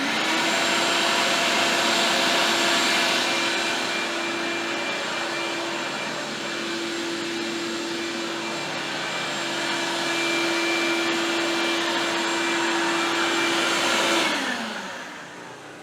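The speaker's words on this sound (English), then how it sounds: "My old 5-horse shop vac draws a decent amount of juice." An old 5-horsepower shop vacuum runs on power from a Generac 5500-watt generator. Its loud, steady whine and roar hold for about fourteen seconds, then wind down as it shuts off.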